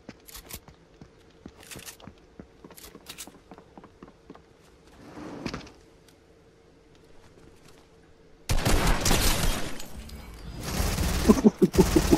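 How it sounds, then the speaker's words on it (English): In Fortnite, scattered faint pops and clicks give way to a loud, dense burst of rapid gunfire that rattles on for several seconds, with sharp cracks near the end. "I got gunfire behind, behind me"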